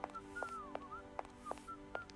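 A man whistles a wavering tune in the Syberia Remastered point-and-click adventure game, with several short clicky taps punctuating the melody at an even pace, moderately loud and alone.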